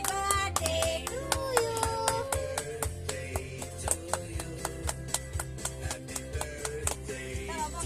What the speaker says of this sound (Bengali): হাততালি হাততালি